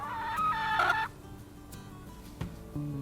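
A chicken inside a warm coop with plastic netting gives agitated squawks and clucks: a loud drawn-out cry at first, then quieter intermittent clucks and a few short calls, near and without talk.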